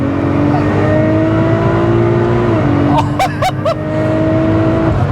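Tuned Nissan R35 GTR (Litchfield Stage 4.25) pulling hard through the gears from 2,700 rpm, a loud steady engine drone rising in pitch, with a brief gear-change dip and sharp tonal bursts midway.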